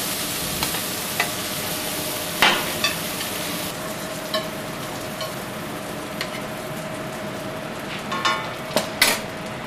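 Scallops sizzle steadily in a hot frying pan, a loud continuous crackle close by, with occasional sharp taps and scrapes of utensils against the pan and no one talking.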